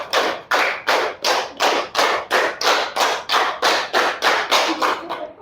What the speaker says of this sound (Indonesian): 5 kali 3 tepuk.